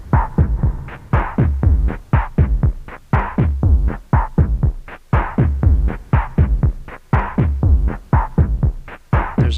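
A Roland SP-606 sampler plays a sample with a little reverb, giving a loud, close, pulsing pattern of deep thumping hits with tonal swells, repeating in a steady rhythm.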